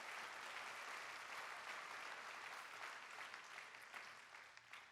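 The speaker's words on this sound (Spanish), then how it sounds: "¿Cuántos le pueden dar un fuerte aplauso?" Audience in a church giving loud sustained applause, a dense crowd of clapping that holds steady and begins to thin only at the very end, heard faintly at a distance.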